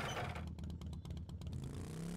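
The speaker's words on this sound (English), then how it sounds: "My motorcycle." Motorcycle engine in 7 Days to Die, a short close burst of idling and revving with clattering mechanical ticks, loud and alone for about two seconds.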